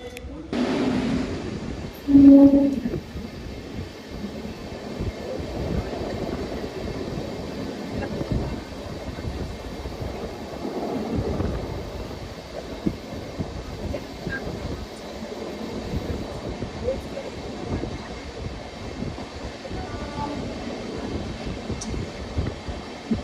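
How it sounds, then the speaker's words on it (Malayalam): The Thiruvananthapuram Central–Rameswaram Amrita Express pulls into Karunagappally railway station: a loud tonal blast near the start gives way to a steady, rolling rumble of wheels and coaches that continues throughout. "കരുനാഗപ്പള്ളി റെയിൽവേ സ്റ്റേഷനിലേക്ക് ഇപ്പം അമൃത എക്സ്പ്രസ് വരുവേ"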